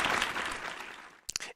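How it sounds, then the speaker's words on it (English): A short burst of applause rolls across a ham radio live show for about a second, fading out, then a couple of quick sharp claps close it off. "Get it right, more applause."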